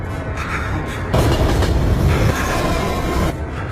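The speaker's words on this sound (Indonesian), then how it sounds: "Dan kereta pun lewat." A train rumbles past up close, loud clattering wheels and a heavy rushing roar that swells in the middle and eases off.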